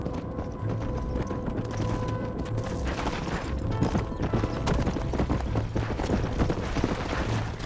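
Horses clip-clopping steadily as a herd is driven into a pen in Red Dead Redemption, hooves pounding continuously over a low rumble with occasional whinnies and game music running underneath, loud and close throughout.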